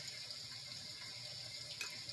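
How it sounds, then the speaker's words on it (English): Water poured into paint mixed for a dirty pour, a faint, soft trickle and splash lasting a couple of seconds with a small spatter near the end. "So then you pour a little bit of water."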